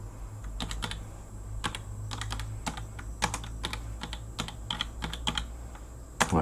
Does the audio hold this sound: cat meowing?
no